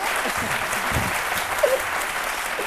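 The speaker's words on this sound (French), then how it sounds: "il faut que ça s'applaudisse un peu, s'il vous plaît" Studio audience applause on a midday television talk show: steady, moderately loud clapping that continues evenly throughout, with no clear break.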